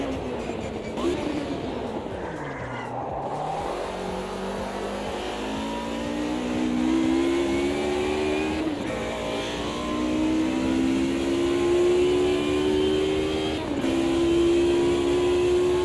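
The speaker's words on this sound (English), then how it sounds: "the classic DTM Audi that's coming in the next update with that V8 monstrous engine, it sounds absolutely amazing" Classic DTM Audi race car with a V8 engine in the sim racing game Automobilista 2, loud and close, the engine note rising steadily through repeated gear changes under hard acceleration.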